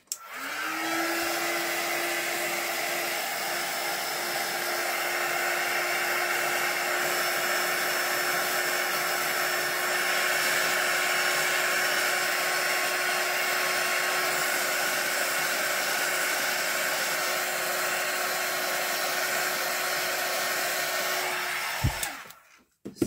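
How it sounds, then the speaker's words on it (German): A hair dryer blows steadily over freshly poured epoxy resin in egg moulds, a loud continuous whir with a constant tone that runs for over twenty seconds before switching off. "Ich gehe mal ganz kurz mit dem Föhn drüber."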